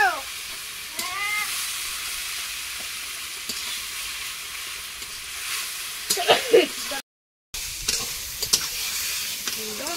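Potatoes go into hot spiced oil in a pan and are stirred, giving a steady sizzling hiss with occasional scraping and clatter of a spatula; a faint voice is heard briefly.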